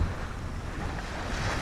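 Steady rush of wind and wash of waves around a sailboat under sail at over six knots in about twelve knots of crosswind off the Tuscan coast, continuous and close with wind buffeting the microphone.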